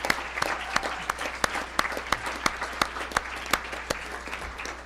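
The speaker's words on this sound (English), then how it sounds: "Let's give them another round of applause." An audience at a school board meeting applauds a high school chamber choir with steady, moderately distant clapping that carries sharp individual claps throughout, no talking.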